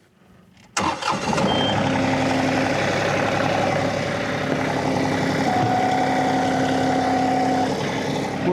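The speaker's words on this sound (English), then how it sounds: "we might as well test out the PTO while it's hooked up" A farm tractor's engine cranks and fires after a brief quiet lead-in, then runs at a steady, loud mid-pitched idle while hooked to a fertilizer spreader for a PTO test. A whining tone rises and shifts as it runs.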